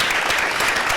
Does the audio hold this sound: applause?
yes